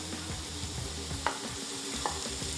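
Onions and chorizo fry in a pan with a steady, low sizzle, broken by two brief stirring clicks; no one talks.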